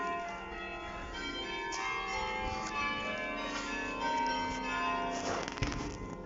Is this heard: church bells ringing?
yes